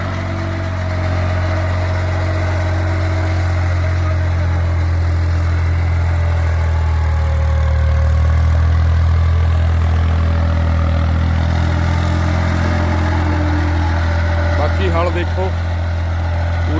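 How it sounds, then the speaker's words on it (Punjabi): A tractor engine works in a maize field with a steady, loud, low diesel drone that rises slightly in load midway, close by, while someone talks over it. "ਅਸਲ 'ਚ ਹੁਣ ਪਤਾ ਲੱਗਣਾ ਟਰੈਕਟਰ ਦੇ ਜ਼ੋਰ ਦਾ ਵੀ ਕਿਵੇਂ"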